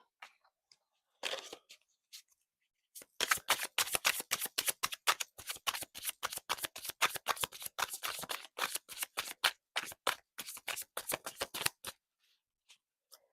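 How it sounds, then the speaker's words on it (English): Tarot cards being shuffled, with some falling out: a brisk run of crisp riffling snaps and slaps, close and fairly quiet, after a few scattered taps, with no talking. "It's too many cards falling out."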